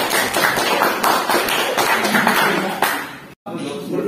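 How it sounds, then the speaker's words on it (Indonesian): Indoor audience at a teachers' coaching session clapping in a dense, steady burst of applause, close and fairly loud, cut briefly by a gap before resuming. "Kasih tepuk tangan."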